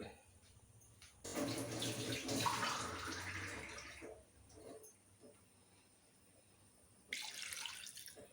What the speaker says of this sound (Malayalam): ആവശ്യത്തിന് വെള്ളം ഒഴിച്ച് നമുക്കത്